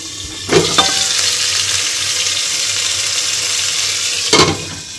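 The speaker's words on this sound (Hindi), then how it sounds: "टमाटर ला थोड़ा तेल करके ना वही में डाल दिया हूँ" Tomatoes frying in a little oil in a pan give a steady, close broadband sizzle. Brief clatters near the start and end could be a utensil touching the pan.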